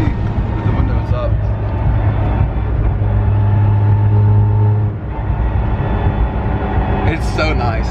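An MK7 Golf R cruising in fourth gear gives a constant engine drone with a thin, steady whine riding over it from inside the cabin, while someone talks throughout.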